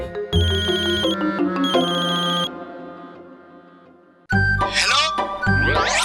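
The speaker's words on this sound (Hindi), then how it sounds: "सर, फोन उठाइए।" A phone ringtone plays loudly: a bright synthetic melody of repeated tones, pausing briefly, then returning with rising sweeping chimes.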